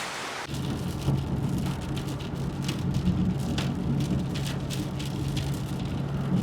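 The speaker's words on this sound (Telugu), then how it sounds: "ఒక పక్కన చూస్తే భయంకరమైన వాన పడుతుంది అనమాట." Heavy rain pours down steadily, a dense close patter with rumbling thunder beneath it.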